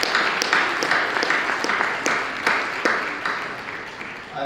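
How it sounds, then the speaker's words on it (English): An audience at a sustainability summit gives a round of applause for students, with scattered, distinct claps from a modest crowd, thinning and fading over several seconds. "let's give a round of applause to these kids"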